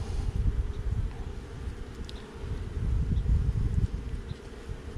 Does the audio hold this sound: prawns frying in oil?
no